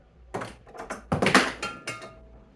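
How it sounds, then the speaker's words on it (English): Objects clatter and thunk as they get knocked over near a trumpet mute review setup, several quick muffled knocks and bumps in a short cluster, close and moderately loud. "knocking stuff over still"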